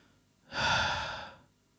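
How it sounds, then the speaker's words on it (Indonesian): One long, deep, heavy breath lasting about a second, close and breathy, rising quickly and fading slowly, with quiet before and after. "Suara itu berat, dalam. seperti napas makhluk raksasa."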